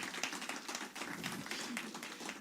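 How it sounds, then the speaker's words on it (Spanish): Worshippers in a church applaud together in a dense, steady patter of many hands. The clapping is fairly soft and continuous throughout, with no single claps standing out. "Si quiere aplaudir, aplauda."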